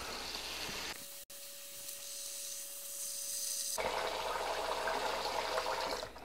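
Water gushes and hisses steadily into a bag holding cornhole bags, briefly quieting to a thin trickle with a faint tone before rushing strongly again, close by.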